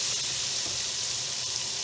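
Carrots sautéing in butter in a skillet, a steady hissing sizzle that holds evenly throughout, close and fairly loud with no talk.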